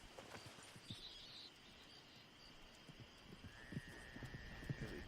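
Faint hoof clip-clops of a horse approaching in the video game Red Dead Redemption 2, soft irregular steps growing a little louder over quiet outdoor ambience with occasional bird chirps.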